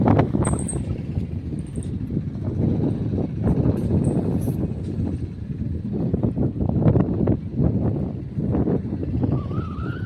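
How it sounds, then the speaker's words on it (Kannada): Strong wind buffets the microphone on a hillside farm in the Malnad region, a loud, continuous broadband roar with rising and falling gusts throughout, no clear voices. "ಎಷ್ಟು ಗಾಳಿ ಬರ್ತಾ ಇದೆ ನೋಡಿ, ಕಾಣಿಸ್ತಾ ಇದೆ ವಿಪರೀತ ಗಾಳಿ"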